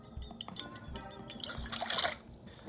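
Soy sauce and rice vinegar poured into a marinade for spare ribs, a soft steady trickling and splashing of liquid that grows fuller toward the end, close and moderately quiet.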